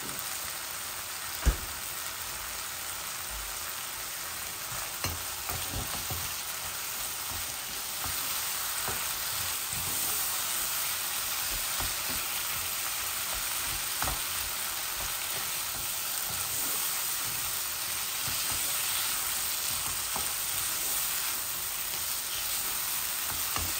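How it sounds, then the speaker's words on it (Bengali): Duck eggs and potato pieces frying with tomato puree in a pan, a steady close sizzle with faint spatter that runs on evenly throughout, with no one talking. "আর একটু ভাজা ভাজা হয়ে যাক"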